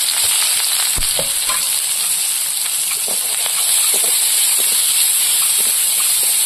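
Chopped onion, torn green chili and garlic fry in hot fish-frying oil with a five-spice tempering, a loud, continuous sizzle and hiss with occasional stirring scrapes, close and steady throughout.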